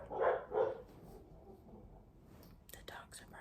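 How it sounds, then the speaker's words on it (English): Dogs bark twice in quick succession, somewhat distant and muffled, followed by low background noise and faint rustling. "The dogs are barking."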